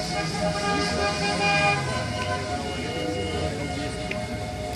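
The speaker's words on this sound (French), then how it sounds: "les 4L Club qui font un petit peu de klaxon" Several Renault 4L car horns toot in a long, overlapping chorus at a Renault club gathering, steady and fairly loud, with a murmur of voices in the background.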